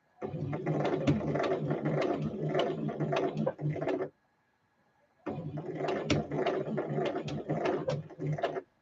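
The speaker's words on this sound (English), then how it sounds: "so I'm just going to try and sew this lace on" A sewing machine stitches lace onto the edge of a seam allowance in two rapid rattling bursts of needle strokes, separated by a roughly one-second pause, heard close and alone.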